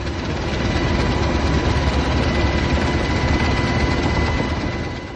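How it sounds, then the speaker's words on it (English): Inside a US Navy search-and-rescue helicopter in flight over the Seattle waterfront, the engine and rotor produce a dense, steady, loud roar that continues unbroken throughout, with no voices. "This was my first helicopter ride"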